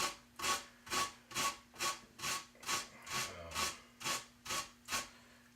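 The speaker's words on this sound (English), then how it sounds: "use this cheese grater and grate it really fine, because you don't want large chunks of cucumber, you just want little pieces" Cucumber grated finely on a metal cheese grater by hand, a steady series of about eleven rasping scrapes in an even rhythm, close and clear with no talking.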